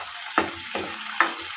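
Tempering for an onion-flower sambar sizzles in hot oil or ghee, with three sharp crackling bursts at steady intervals over a low background hiss, close and moderately loud.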